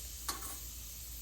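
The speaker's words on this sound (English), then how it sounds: "I have put the oil, about 2 tablespoons of oil in the pan, 1 big spoon of cumin." About two tablespoons of oil with a big spoonful of cumin sizzle in a pan for a rice and lentil khichdi, a steady faint hiss broken by one brief clink or scrape.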